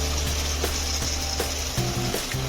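Ground masala paste stirred and fried into ambadi (roselle leaf) bhaji in a pan, giving a steady loud sizzle with a few soft scraping stirs, no voices.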